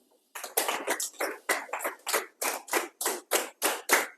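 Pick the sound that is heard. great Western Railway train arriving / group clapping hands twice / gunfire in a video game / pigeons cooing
group clapping hands twice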